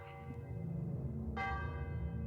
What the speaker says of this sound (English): Like the Priory bell that's calling me to prayer.